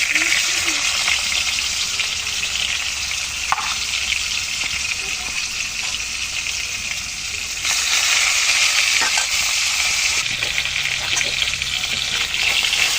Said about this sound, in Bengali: মাছও ভেজে নিচ্ছি।